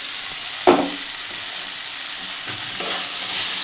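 Potatoes go into dry red chilli powder, turmeric and cumin powder in a hot pan: a sharp sizzle flares as they land, steady frying hiss continues, and a second burst of stirring and sizzling follows near the end.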